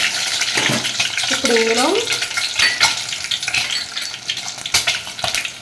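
Eggs frying in a pan for chicken curry give a steady close sizzle with some stirring scrapes, while someone speaks briefly over the cooking.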